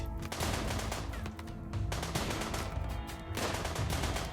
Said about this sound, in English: Corsair's getting shot at.